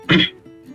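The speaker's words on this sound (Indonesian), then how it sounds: "Entah kenapa saya batuk." A single sharp cough, close and loud, followed by a faint throat sound as it fades.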